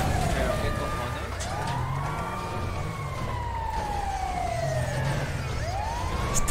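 Emergency vehicle sirens in a roleplay video game server, with several overlapping wails rising and falling in long sweeps over a busy, constant background of traffic noise.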